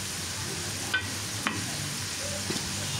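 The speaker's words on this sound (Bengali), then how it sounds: "এই তো আমি নেড়ে চেড়ে দিচ্ছি।" Leftover chicken fries in a pan while being stirred: a steady, close sizzle with a few faint scrapes and clicks from the utensil moving through the pan.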